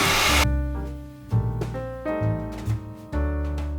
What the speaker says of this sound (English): now I'm drying off the layers of the gouache with my blow dryer